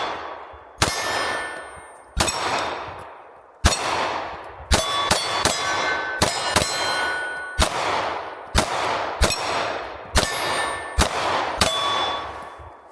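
Shots from an FN Reflex XL micro-compact hammer-fired pistol, about a dozen loud, sharp cracks in uneven strings, each followed by a ringing decay.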